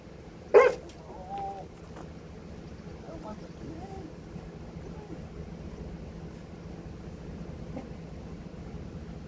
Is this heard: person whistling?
no